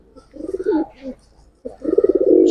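A giribaaz pigeon gives two close, throaty, pulsing coos separated by a short pause, the second longer and louder.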